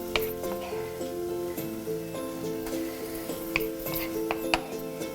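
Chopped leftovers sizzle and are stirred in a pan for tomato sauce, with steady frying hiss, a low hum, and intermittent scraping and clinks of a utensil against the pan.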